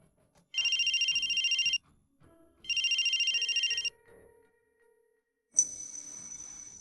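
A phone rings for an incoming call in a quiet office, two long electronic trilling bursts separated by a short pause, then a third ring begins near the end.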